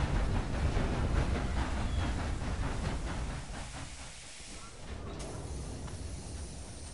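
Steam train running at top speed in Red Dead Redemption 2, a steady broadband rumble and hiss that fades slightly midway, continuous throughout.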